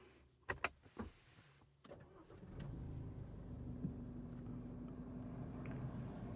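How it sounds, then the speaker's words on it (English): A 2025 Isuzu D-Max V-Cross pickup truck starts up, a few sharp clicks and a brief crank followed by the engine catching and settling into a steady, fairly quiet idle, heard from inside the cabin. "Okay, so let's go ahead and start the car."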